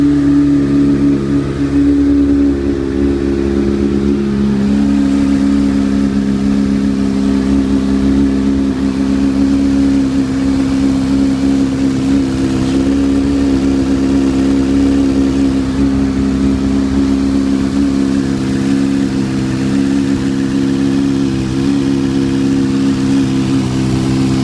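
A Hornet car engine runs steadily at a loud, close idle, with a low rumbling drone and a slight shift in pitch early on, as if lightly revved, continuing without talk.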